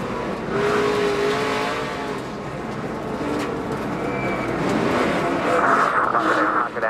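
Onboard a NASCAR truck racing on the dirt at Eldora, the engine roars loud and steady throughout, with rising and falling pitch as the driver works the throttle through the turns.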